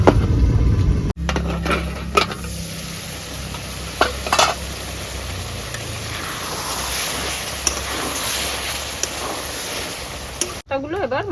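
Small puti fish hit hot oil in a pan for a Bengali curry, setting off a loud, steady sizzle with occasional clinks and scrapes of stirring, close up throughout.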